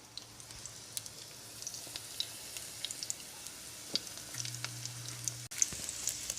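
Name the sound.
food frying in a deep fryer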